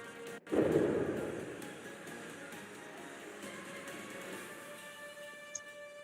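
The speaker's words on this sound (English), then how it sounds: "The flak barrage." Flak barrage from warships in the game From the Depths: a sharp, loud burst of exploding anti-aircraft fire, then a sustained rumbling wash of distant flak bursts with faint crackles running underneath.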